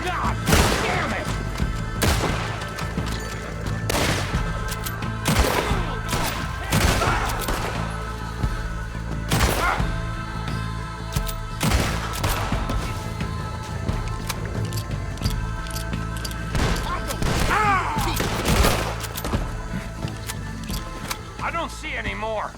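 Repeated gunfire from Red Dead Redemption 2 during the mission American Distillation: sharp, loud shots and volleys crack at irregular intervals, some near and some farther off, mixed with thuds and character voices.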